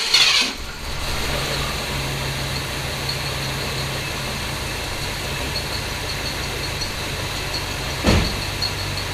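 A 1966 Ford Galaxie 500 convertible engine idles with a steady low rumble and constant hum, close and even throughout, with a sharp thump at the start and another brief knock later.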